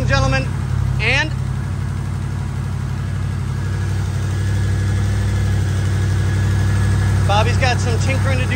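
A 1975 Chevrolet Corvette engine idles steadily with a low, constant hum and vibration, joined by brief higher squeaks or whines near the start and end.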